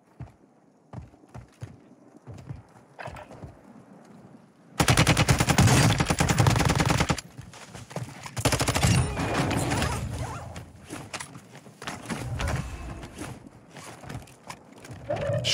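Rapid automatic gunfire from the player's own weapon in a first-person shooter, loud and sustained in long dense bursts with short pauses, near and dominant throughout.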